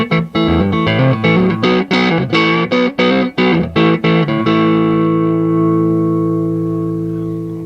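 Electric guitar played through a BearFootage Uber Bee fuzz pedal, heavily distorted chords strummed in a choppy rhythm, then a final chord left ringing and slowly decaying, loud and close.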